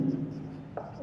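A marker or chalk scratches across a board in a Class 12 physics lesson, soft and brief under a teacher's speech.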